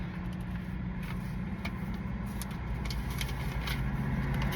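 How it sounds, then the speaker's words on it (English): Heavy road traffic rumbles steadily and loudly close by, with trucks driving past in a continuous low roar and no talking. "these trucks are so loud"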